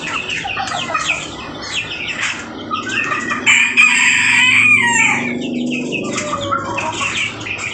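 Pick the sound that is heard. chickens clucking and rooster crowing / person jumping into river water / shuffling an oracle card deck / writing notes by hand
chickens clucking and rooster crowing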